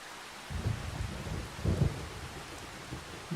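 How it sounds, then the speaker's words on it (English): Rain falls steadily in the Farming Simulator 25 video game while two low, muffled thunder rumbles roll through, each lasting about a second, with no talking. "I'm just going to sit the rain out, I guess."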